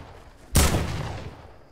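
A single sharp gunshot in the video game Fortnite bursts out loud and near, then fades in a short echoing tail over quiet background.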